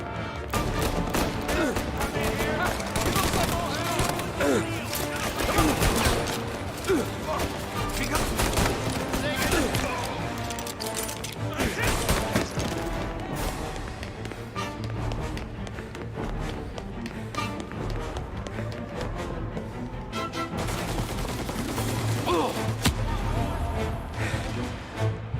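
Shootout in a remade classic video game, with repeated gunshot cracks and bursts of fusillade scattered across the clip. A steady low hum runs underneath, and people speak over the gunfire.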